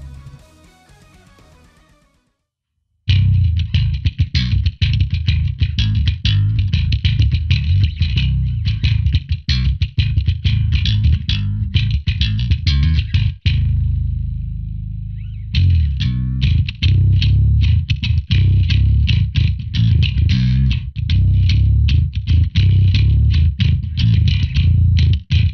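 Loud, sustained distorted bass guitar tone run through a Line 6 POD X3 with a bass impulse response, playing dense chugging metal riffs. A brief pause falls midway, then the heavy crunchy playing resumes to the end.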